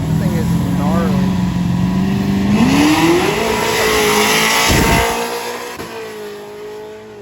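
Pro Charge Camaro drag car launching and accelerating down the strip on a hot day, a loud engine roar that climbs in pitch and then fades into the distance, with a voice talking over it.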